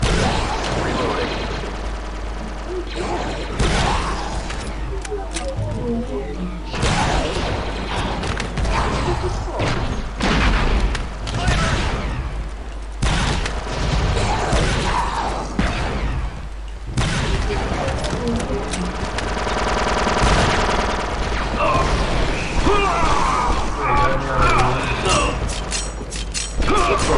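Blaster fire from the video game Star Wars Republic Commando bursts loudly and densely in repeated volleys and rapid fusillades, mixed with booms, mechanical sounds and voices talking over the combat.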